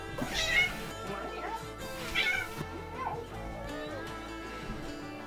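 A cat meows repeatedly in close, drawn-out calls, with a person's voice mixed in among the cries.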